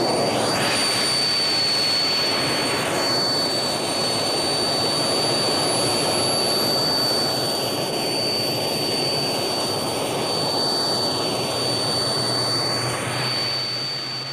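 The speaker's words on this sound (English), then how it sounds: "Thrust was run to full power with the afterburner on." A Thrust 2 jet engine roars continuously at full power with afterburner on, loud and close, with a steady high whine riding over the broad rushing blast.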